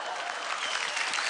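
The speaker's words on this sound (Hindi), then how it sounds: "तालियां।" Studio audience on a TV singing show breaks into steady, dense applause, moderately distant and continuous for the whole short stretch.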